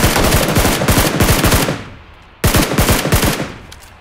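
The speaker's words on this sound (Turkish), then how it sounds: "Adam vuruyor baba." Automatic weapon fire from the battle royale game PUBG Lite rattles in a long, loud burst, breaks off briefly, then resumes in a second burst, close and dominant.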